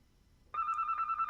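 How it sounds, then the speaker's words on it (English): A vintage landline phone starts ringing sharply out of near silence, a bright electronic bell trilling in steady rapid pulses, close and clear with nobody talking. "Nice old time landline."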